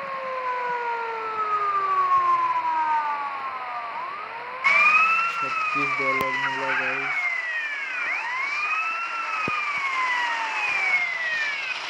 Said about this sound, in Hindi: इसका सायरन भी चालू कर दिए।